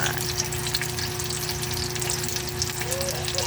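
Bean sprout spring rolls (lumpiang togue) fry in a pan of oil, giving a dense, loud, unbroken sizzle that stays steady and close throughout.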